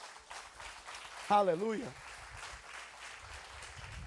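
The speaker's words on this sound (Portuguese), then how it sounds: "Vamos aplaudir Jesus." Church congregation applauding during a worship service, a steady wash of clapping throughout with a voice briefly calling out in a sung, drawn-out exclamation over it.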